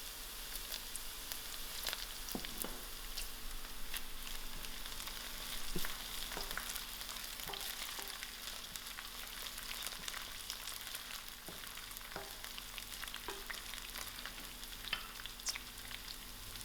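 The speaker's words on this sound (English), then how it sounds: "So to my onions, I'm going to add in my thyme and my curry leaf." Onions frying in a pan with thyme and curry leaf, a soft continuous crackling sizzle with scattered tiny pops, fairly faint and steady, no voices.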